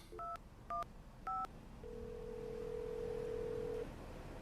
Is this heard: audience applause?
no